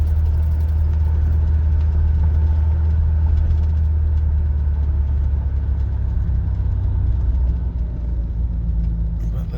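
The engine of a 1981 Cadillac Eldorado, recently cleaned throttle position sensor, runs at a steady, loud, low rumble close by, with someone talking over it.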